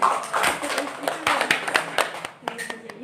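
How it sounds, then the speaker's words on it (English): Audience clapping during an English debate competition, a patchy burst of hand claps with distinct individual strikes, mixed with voices and other room noise. "first we give applause to the audience"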